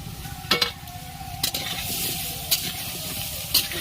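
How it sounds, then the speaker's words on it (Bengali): Potatoes for a meat curry frying in a wok with salt and turmeric, a steady close sizzle broken by four sharp stirring scrapes spaced about a second apart. "মাংসর আলু ভেজে নেওয়া হচ্ছে"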